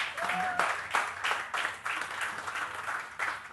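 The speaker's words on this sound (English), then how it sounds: "Come on, a big round of applause." Applause greets winners on stage at an awards ceremony honoring Asian Games medalists, a fairly faint, uneven round of clapping that swells in waves, with a brief voice near the start.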